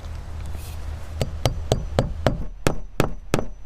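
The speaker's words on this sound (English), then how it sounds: "We're going to start nailing as close to the middle of the span as we can" About nine sharp, evenly spaced hammer strikes drive nails through vinyl siding into a wall, each a crisp close knock, with a low hum beneath.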